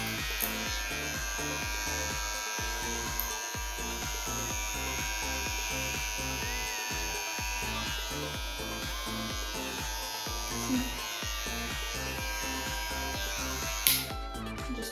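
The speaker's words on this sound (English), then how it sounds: "you just want to clean up their neckline a little bit" An electric trimmer buzzes steadily close up while it cleans a man's neckline. The motor hum stays constant, its tone shifting slightly with each light pass, and a small knock sounds near the end.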